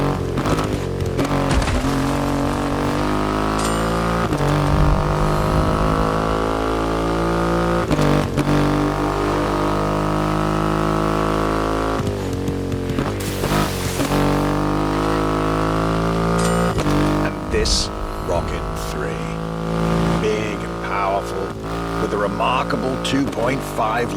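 A Triumph motorcycle with a 2.5-litre engine, ridden in The Crew Motorfest, runs steadily with a loud harmonic engine drone that rises and falls through several gear changes across the whole stretch.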